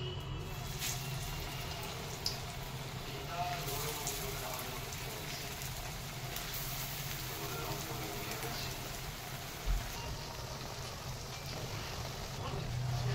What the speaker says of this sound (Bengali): এবার তেল গরম হয়ে গেছে, আমি এক এক করে ভাজবো।